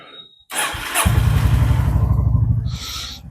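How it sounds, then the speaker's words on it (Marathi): A Honda Highness CB350 motorcycle starts after a brief quiet moment: a short crank, then the single-cylinder engine catches into a loud, close, thumping idle that settles and continues steadily. "बाईक स्टार्ट झालेली आहे"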